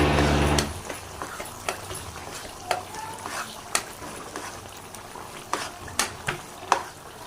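A spoon stirs and roasts makhandi halwa mixture in a pan, producing repeated sharp scraping knocks at an irregular pace over a soft background hiss, close up, with no talking.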